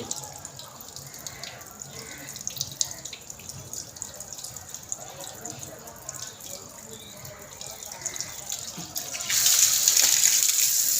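Faint trickling water with scattered voices and background noise, then a tap opens near the end into a loud, steady gush.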